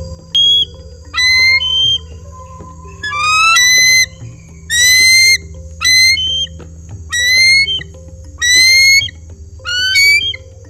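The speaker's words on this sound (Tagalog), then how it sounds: "Ito, ang tunog ng agila." An eagle gives a series of high, thin whistled calls in short chittering bursts, repeated about eight times with brief pauses between, loud and close.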